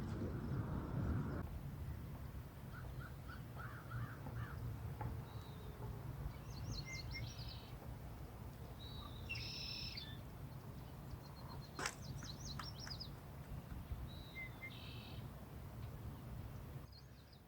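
Small birds chirp in scattered short bursts near the steaming San Juan River, faint and distant over a steady low outdoor hum, with no talking.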